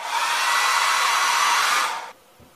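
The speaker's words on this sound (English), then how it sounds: "Another technique you can use is to heat this up, and I use a hairdryer." A handheld hair dryer blowing hot air onto a Vaughan and Bushnell hand plane, a loud steady whooshing roar that runs for about two seconds and then cuts off abruptly, leaving a quiet room.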